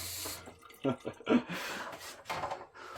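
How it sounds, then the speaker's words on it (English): An RV shower runs in uneven spurts as the hot and cold sides are turned off and on, bursts of hissing spray interrupted by brief gaps, with a person talking over it. "if my shower's cold side is turned on, and then I turn on my hot side, I have flow"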